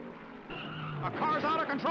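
NASCAR race car skidding out of control on track, a loud engine roar with rising tire-squeal tones over the second half, with commentary audible alongside.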